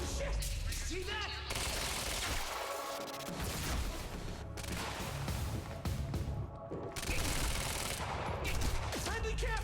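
Gunfire from a firefight in the video game Quantum Break, dense bursts of automatic shots and booms filling nearly the whole stretch, loud and continuous with a short lull near the middle, mixed with a shouting voice.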